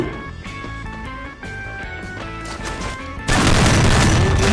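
Video game music with steady tones plays, then a loud explosion suddenly bursts in and rumbles on as a dense roar of blasts.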